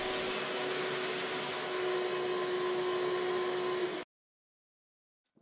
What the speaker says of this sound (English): Jessie just likes to have fun with the vacuum.